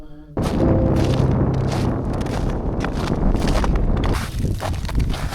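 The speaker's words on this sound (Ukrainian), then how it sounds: "вітер дмуха" Strong wind buffets the microphone on a mountain ridge in the Borzhava range, a loud roaring rush with heavy gusty rumbles that starts abruptly and continues throughout.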